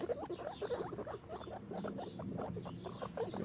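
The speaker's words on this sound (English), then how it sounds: "Get the little oink, oink, oink." Rapid, high-pitched little squeals and grunts from baby piglets repeat in quick bursts nearby, a busy chorus of small animal calls with no talking.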